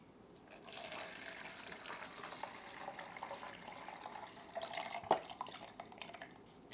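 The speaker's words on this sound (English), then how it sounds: "Alright, so I'm going to time the pour out time first, then we'll get the pour in." Water pours steadily out of a stainless steel film developing tank for several seconds, a continuous splashing gush that ends with a brief sharp clink.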